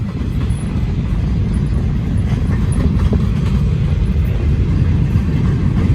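A very long freight train keeps rumbling by at close range, a steady heavy roar of wagons on the rails with faint clicks.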